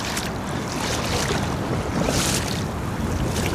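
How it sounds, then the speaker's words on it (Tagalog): Strong wind blowing outdoors beside clear water, a loud continuous rushing roar buffeting close to the microphone, with no voices. "Lakas ng hangin."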